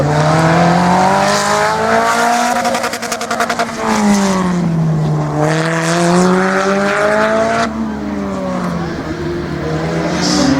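Slalom race car number 22 pulling onto the track at a regional slalom event, engine loud and close, revving hard through rising and falling gear sweeps, with a brief shift near the end and no voices.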